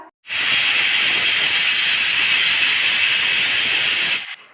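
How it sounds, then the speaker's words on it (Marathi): A pressure cooker of moong dal khichdi vents steam through its whistle in one loud, steady, unbroken hiss lasting several seconds before cutting off abruptly. "दोन शिट्ट्यानंतर गॅस लगेच बंद करायचा आहे"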